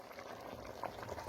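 Shirqovoq, a pumpkin, rice and milk porridge, bubbles in a pot with soft, thick plops and a low, continuous simmer. The sound is quiet and close, and no one speaks.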